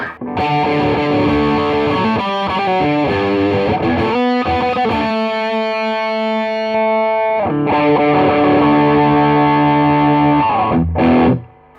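Electric guitar played through a Keeley D&M Drive overdrive with the boost after the drive, chords and single notes ringing with thick, mid-focused saturated distortion, loud and up front, with a brief pause midway.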